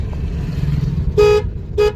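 Car horn honked during a driving lesson, two short bright toots in close succession over the low rumble of the idling engine inside the car.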